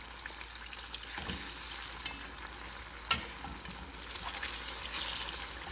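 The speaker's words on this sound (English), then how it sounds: "Pretty hot, so they're going to fry up pretty fast." Sliced sweet plantains frying in very hot oil in a pan, a steady dense sizzle running throughout with a few brief pops and clinks of the pan, close and fairly loud.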